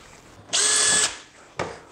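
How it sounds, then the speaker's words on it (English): A power drill bores pilot holes through wooden shelf sides: one loud, high whine for about half a second, then a shorter second burst as the bit spins up again. "Once I'm done drilling all those holes to transfer the layout marks from the inside of the shelf sides to the outside"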